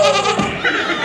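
Voice imitating a goat's bleat, a short wavering nasal cry that quivers for about a second, close and fairly loud.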